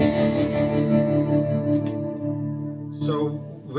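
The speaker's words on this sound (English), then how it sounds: "Tremolo." An electric guitar run through a multi-effects unit plays sustained chords pulsing with a tremolo effect, loud and steady throughout with no other sounds.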